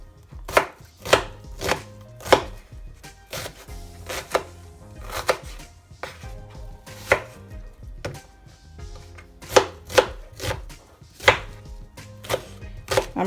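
A knife chops onions, ginger, garlic, Scotch bonnet peppers and spring onions on a board for a marinade, in quick irregular bursts of sharp close thuds with short pauses between them.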